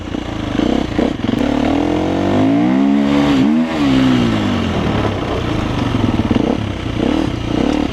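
A motorcycle engine fitted with knobby tires fires up and revs hard, the pitch climbing and falling through a long throttle sweep, loud and close with a steady rumbling idle around it.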